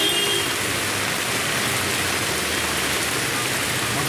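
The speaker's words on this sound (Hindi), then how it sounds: "देखिए कितना तेज पानी गिर रहा है" Heavy rain drums steadily on a car, a dense, even hiss with no pauses throughout.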